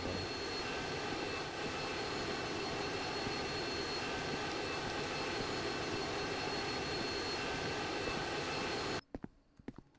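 A private jet's engine roars steadily and loudly in a Roblox video game, then cuts off abruptly near the end, leaving a few faint clicks.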